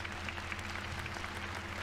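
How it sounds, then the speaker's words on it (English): An audience claps in a steady, even patter that stays moderately loud and continuous for a couple of seconds with no voices above it. "What are you clapping for?"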